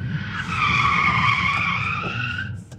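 Tesla Model 3 Performance sliding with its tires skidding, a loud sustained squeal close by that holds steady for over two seconds before tapering off.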